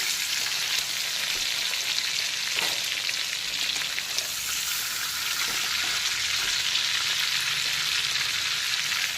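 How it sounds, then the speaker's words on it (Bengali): Bagda tiger prawns lightly frying in hot oil, giving a steady, close, bright sizzle with crackling spatter that runs unbroken throughout, with no voices. "বাকি যত চিংড়ি আছে সেগুলোকেও ঠিক একইভাবে হালকা করে ভেজে তুলে নেব"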